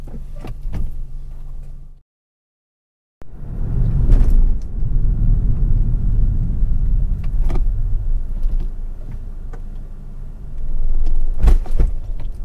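A 2019 Toyota Corolla Hatchback with a manual clutch is heard from inside while driving, a steady low engine and road rumble with a brief silent gap early on and some door or window clunks.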